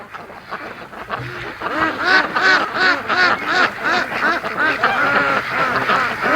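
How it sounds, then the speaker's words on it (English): Free-range ducks at a lake keep up a loud, overlapping quacking chorus, rising in intensity after the first second and staying busy and close throughout. "look at the amount of ducks going back there"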